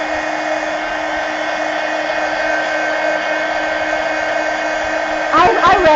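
A hair dryer blows steadily and loud at close range over a mixed media pumpkin collage, a continuous whooshing drone with brief rustling handling noise near the end.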